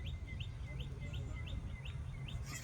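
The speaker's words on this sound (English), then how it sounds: "Birds all around me singing." Several birds sing outdoors on a morning near trees and a flagpole, with repeated short rising chirps in a steady rhythm over a low, constant background rumble.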